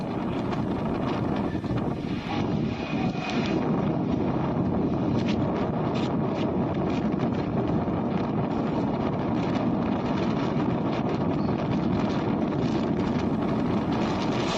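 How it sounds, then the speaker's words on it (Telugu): Heavy rain and strong gusty wind sweep over Kokapet in Hyderabad during a storm, a dense continuous roar and wash of noise with buffeting gusts hitting the microphone, loud throughout with no voices. "రాజేంద్రనగర్ లో పలుచోట్ల ఈదురుగాలులతో వర్షం కురుస్తోంది"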